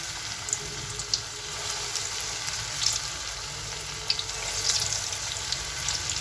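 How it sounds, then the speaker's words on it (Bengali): Pakoras of soft batter frying slowly in hot oil give a low, steady sizzle with small crackles and pops scattered throughout, fairly quiet and close, with no talk. "এখন এটাকে আস্তে আস্তে আমি ভেজে নেব"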